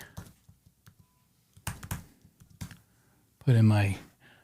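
Scattered keyboard taps and clicks as a password is typed while setting up a new Mac Mini come in short irregular bursts, followed by a brief spoken phrase near the end.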